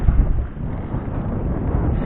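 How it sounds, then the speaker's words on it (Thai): Strong wind buffets the microphone aboard a small fishing boat out at sea, a loud, steady rumbling roar with gusty swells lasting throughout, no voices. "ลมแรงด้วย"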